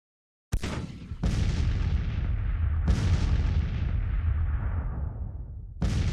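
Cannons firing in the Civil War strategy game Grand Tactician, 1863 Confederate campaign: loud, heavy booms, each followed by a long rumbling decay, spaced a second or two apart with no voices.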